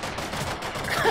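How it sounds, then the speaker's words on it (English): In the Deep Rock Galactic video game, a dense, continuous clatter of rapid gunfire rolls on loud and steady for about a second, with no clear gaps between shots. "I can hear him shoot"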